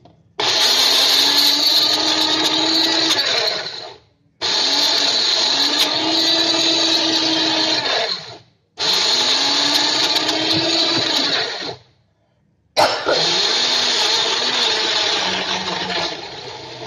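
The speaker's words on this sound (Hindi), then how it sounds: "मैं आपको आवाज आएगी मिक्सी की" A mixer grinder whirs loudly in four bursts of several seconds each, separated by short silences, its motor pitch dipping slightly as it blends.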